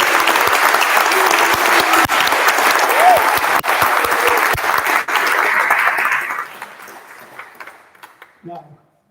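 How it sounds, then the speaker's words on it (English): Audience applause at an annual awards celebration, a dense roar of many hands clapping that holds steady for about six seconds, then fades out with a few scattered claps. "give another wonderful applause and a cheer, not only to our winners, but to all of the nominees"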